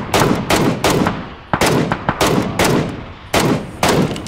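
Rapid bursts of automatic gunfire in PUBG Battlegrounds squad play, loud and close, firing in repeated short volleys with brief gaps between them.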